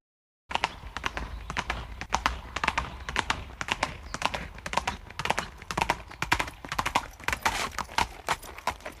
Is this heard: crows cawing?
no